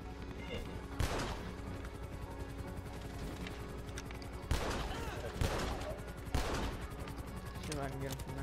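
Revolver shots ring out in GTA 5 Online, with sharp single reports around the one-, four-and-a-half-, five-and-a-half- and six-and-a-half-second marks over a busy game backdrop with music and other gunfire.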